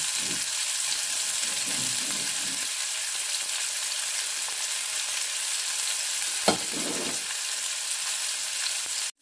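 Salmon sizzles steadily in a hot frying pan as the other side cooks, a loud continuous crackle with a few brief scraping stirs and one sharp pop.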